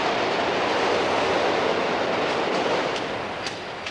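A subway train in Manhattan roars steadily along the tracks, a loud and continuous rumble with faint metallic clicks near the end and no talking.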